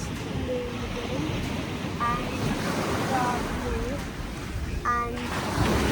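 Surf rolls steadily onto the sand at Maya Beach in the Blue Lagoon on Phi Phi, a constant wash of waves mixed with wind buffeting the microphone, while faint voices drift in now and then.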